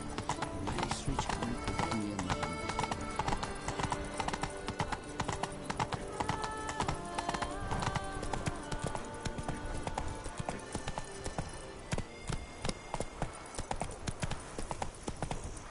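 Roach, a horse in The Witcher 3, galloping with rapid, steady hoofbeats that run throughout, plus an occasional whinny.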